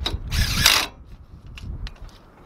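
A driver with a 6mm hex socket tightens brake caliper bolts on the front brakes of a 1997 Ford Expedition 4.6, giving a close ratcheting whir in one short burst followed by softer clicks and knocks.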